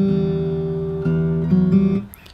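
Fingerstyle acoustic guitar plays a bar of a song, sustained bass notes and chords ringing in a few steady strikes, close and clear, with no talking.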